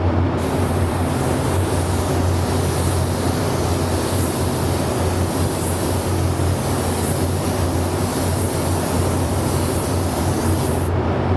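Spray gun laying down the final coat of Arpin yellow candy paint, a loud, steady, unbroken hiss that runs nearly the whole time, close to the spray.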